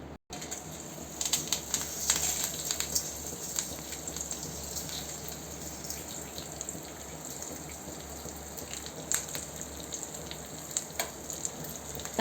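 Tempering spices browning in hot oil for mango pickle, a soft steady sizzle with scattered crackles and pops, fairly quiet and close, with no voices.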